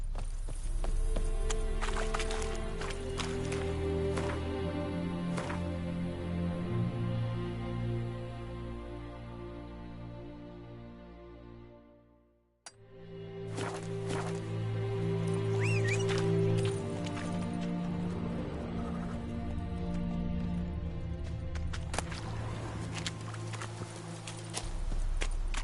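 Roach the horse trots in the Witcher 3 video game, hooves clip-clopping in a steady rhythm over a layered musical score, dropping out briefly midway before resuming.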